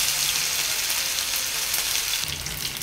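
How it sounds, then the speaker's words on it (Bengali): Chicken leg pieces fry in hot oil with a dense, continuous sizzle, loud and close, with a slight shift in texture near the end and no talking. "তেল গরম হয়েছে। এখন লেগ পিস দিচ্ছি।"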